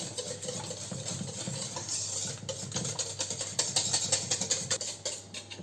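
A spoon stirs milk into muffin batter in a bowl, giving faint, steady scraping and soft clinks, quiet and continuous without speech.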